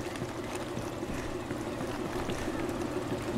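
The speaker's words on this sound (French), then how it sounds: "Oui, mais j'entends le moteur tourner, mais où est-ce qu'il est?" A boat engine in the video game Far Cry 2 runs as a steady, low rumbling drone blended with a watery wash, constant and moderately quiet throughout.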